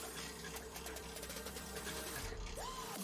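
A sewing machine runs at a fast, steady whir with a faint rhythmic mechanical chatter, quiet and continuous, briefly easing near the end.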